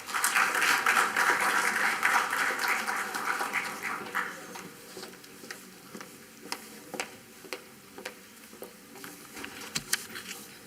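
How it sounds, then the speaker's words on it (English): An audience at an inaugural session of an annual college E-Summit applauds to welcome a speaker on stage, with dense clapping for about four seconds that thins into scattered individual claps. "So please put a loud round of applause to welcome on stage Ms. Urvashi Verma."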